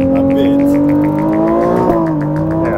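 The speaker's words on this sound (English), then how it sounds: "I hear your engine, I hear you." A Ferrari race car engine revs on track: a loud, close, high-pitched whine that climbs steadily, dips briefly at a shift, then pushes on.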